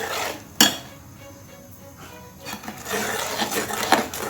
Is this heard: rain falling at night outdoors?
no